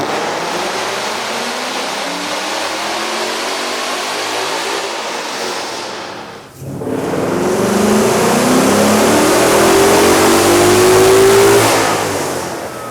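A Ford Mustang GT with a 5.0L engine and a K&N air intake revs hard and loud, a sustained roar that drops briefly to near quiet, then swells again and climbs in pitch before easing off.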